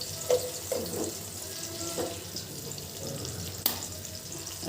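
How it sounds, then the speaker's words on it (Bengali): Chopped onion and chili sizzle in hot oil in a pan for an egg fry, a steady close hiss broken by a few soft scraping stirs, with no talking. "ডিম পেঁয়াজ মরিচটা ভাজা হয়ে গেছে"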